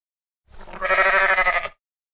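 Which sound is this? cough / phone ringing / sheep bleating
sheep bleating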